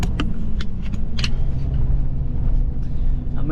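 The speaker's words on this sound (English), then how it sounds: "These are the trucks" Dairy delivery trucks rumbling at a dairy yard, a steady low engine drone close by, with a few light metallic clinks over it.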